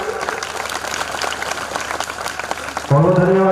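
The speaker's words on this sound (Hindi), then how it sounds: "उनके जोरदार ताली" Audience applause welcoming a teacher at a school award ceremony, steady crowd clapping for about three seconds that cuts off abruptly as a loud voice begins speaking.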